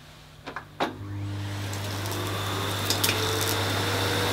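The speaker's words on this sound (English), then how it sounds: "You can hear all the dirt going up the pipe. In fact, that's noisier than the motor." An AEG VX8 Silence Pet Pro cylinder vacuum cleaner on maximum suction picks up oats, rice and tea leaves, with a few sharp rattling pickups at the start before a steady, loud motor hum and a rushing roar of debris through the pipe.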